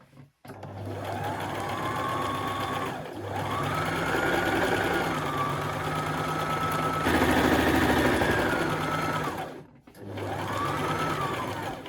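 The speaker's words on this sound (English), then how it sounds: "Lining that up with here, and sew straight across." Close and loud, a sewing machine runs straight across a tier of a maxi skirt in long sustained runs with a rising and falling motor whine, pausing briefly near the start and again toward the end.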